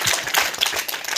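An audience claps in welcome at an NSS camp event at RK College in Madhubani, giving a brief, dense burst of many hands clapping quickly and irregularly, fairly close.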